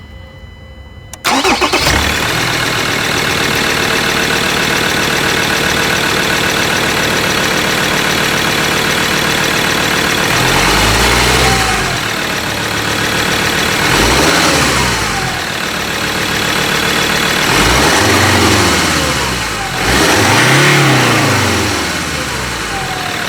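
A Ford Ranger Wildtrak 3.2 automatic with 78,000 miles cranks and fires up, settles into a loud steady idle, then revs up several times, each rise and fall clear and close.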